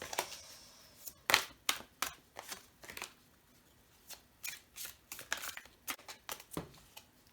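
Oracle cards shuffled by hand, a series of soft papery riffles and flicks in uneven bursts, close and quiet with short pauses between shuffles.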